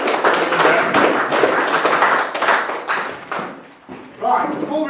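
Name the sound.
audience applause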